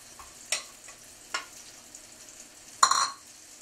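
Plantains fry in a hot pan, giving a low steady sizzle with a few sharp spatters and a short burst of crackling near the end, and no talking.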